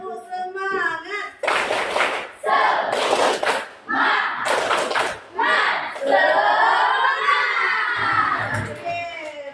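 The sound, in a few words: schoolchildren doing the clapping chant "tepuk semangat"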